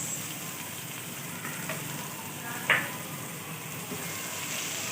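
Chopped onions and cumin seeds sauté in a hot pan, giving a steady soft sizzle, with a quick stirring scrape partway through and no talking.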